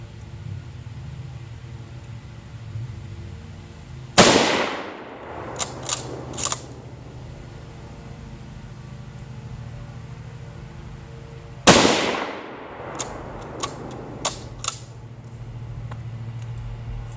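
A Mosin Nagant bolt-action rifle fired outdoors at a shooting range: two loud, sharp single shots several seconds apart, each followed by a few smaller metallic clicks and clacks of the bolt being worked.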